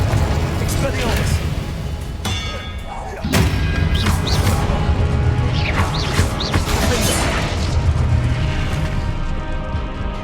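Booming blasts and crashing impacts from the Confringo blasting spell in the video game Hogwarts Legacy, a heavy hit around the third second amid continuous rumbling chaos and clattering effects.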